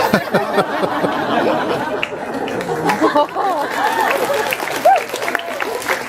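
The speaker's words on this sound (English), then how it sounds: "I love that every answer gets applause." Audience applause at a VidCon panel, steady clapping mixed with crowd chatter and scattered chuckles, filling the room at moderate loudness with voices over it.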